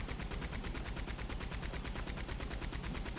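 Rapid, sustained bursts of automatic fire from a Maxim machine gun in the online Western game Red Dead Online, a fast, even rattle of shots continuing throughout without pause, moderately quiet and with no voices.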